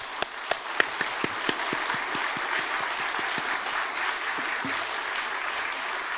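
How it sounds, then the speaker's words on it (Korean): A church congregation gives a round of strong, rhythmic claps, sharp separate hits counted out at a steady pace over a soft background wash of crowd noise, with no talking. "약속으로 박수 20번 힘차게"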